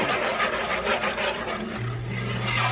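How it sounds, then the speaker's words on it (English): A garlic and au jus mixture being whisked in a bowl, a close, continuous scraping and rubbing with a soft rhythmic swish. "And then you just whisk it around."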